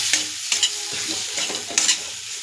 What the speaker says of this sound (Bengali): এইভাবে নাড়তে থাকবে, নাড়াচাড়া ভালো করলে কড়াতে লেগে যাবে না।